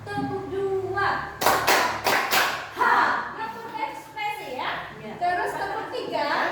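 Two sharp hand claps land together from a classroom of children playing a clapping game, bracketed by a teacher and kids talking before and after, with further scattered taps and voices around them.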